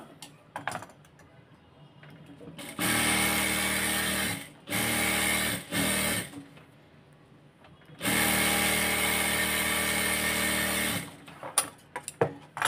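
Bursts of a sewing machine stitching hijab fabric, loud and close, in several runs of a few seconds each with short pauses between them.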